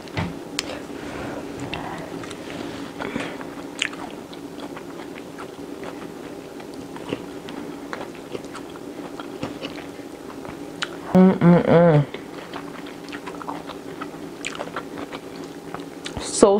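Close, soft crunching bites of fresh mixed vegetables with cabbage, garlic, ginger and herbs, scattered chewing clicks over a low steady room hum, with a brief louder burst near the end.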